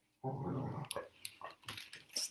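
A dog's growling, whining vocalization runs steadily for about half a second, followed by a string of short, softer yips and snuffling sounds, close and fairly loud.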